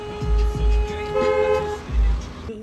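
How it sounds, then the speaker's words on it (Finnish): Car horns honk loudly and repeatedly in nearby traffic, several overlapping toots in bursts over a low road hum. "Täällä on porukka ihan hullu vihaisia ja tööttelee kauheasti."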